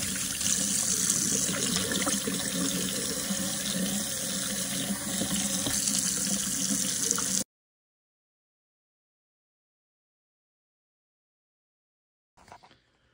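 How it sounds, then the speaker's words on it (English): Hot water runs steadily from a tap in a close, continuous rush, then cuts off into silence before a faint brief clatter at the end. "Just gonna run some hot water down this for a while."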